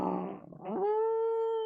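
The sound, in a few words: creatures howling and baying in the distance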